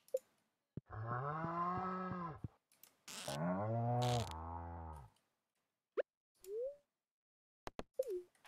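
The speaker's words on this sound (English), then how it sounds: "This cow is so noisy." A noisy farm cow gives two long, loud, close moos, each lasting about two seconds, followed by a few short clicks and brief grunting calls separated by silence.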